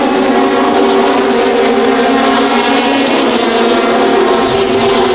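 WTCC touring cars racing past the pits at Magny-Cours in 2005, a loud sustained engine roar that stays close and steady throughout.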